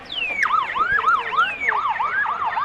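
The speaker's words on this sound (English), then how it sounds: "There's the siren in the background for half-time." Half-time siren wailing at a rugby league ground during a Group 6 first grade match, a loud rising and falling tone sweeping repeatedly through the whole stretch over steady crowd and field ambience.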